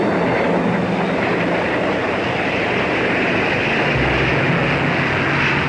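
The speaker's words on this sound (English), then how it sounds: "by the ring of axe and hammer, and the beat of steam engines." Steam engines in colonial-era Rhodesia give a steady, loud, dense mechanical rumble and clatter with a rhythmic rail-like beat, continuous throughout with no voices.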